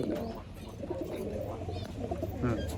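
Pigeons offered for sale coo softly in low, rolling calls amid a busy, murmuring background, moderately near and fairly quiet.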